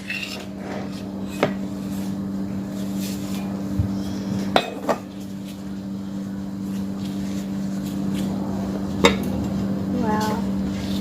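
A chocolate cake baked without an oven being flipped out of a metal pot: scattered clinks and knocks of metal and utensils, a few sharp taps, over a steady hum, with voices talking.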